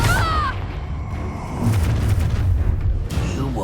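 A booming blast from the Confringo fire spell in the video game Hogwarts Legacy, heavy low-end rumble with debris crackle amid ongoing combat effects, with a voice shouting spell names.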